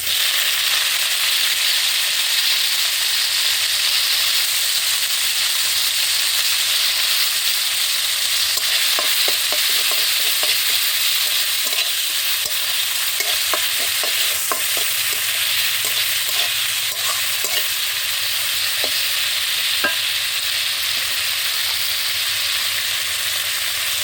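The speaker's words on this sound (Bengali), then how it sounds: "চিংড়ি মাছগুলো ভাজা হয়েছে" Prawns fry in hot oil spiced with a five-spice tempering, giving a loud, steady sizzling hiss throughout, with light crackles and spatter rising in the middle stretch.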